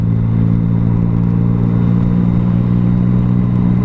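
A 2017 Yamaha MT-09 motorcycle engine drones at a steady, loud, low pitch during city riding, with road and wind noise and no speech.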